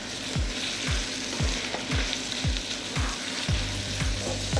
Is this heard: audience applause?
no